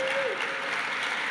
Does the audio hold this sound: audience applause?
yes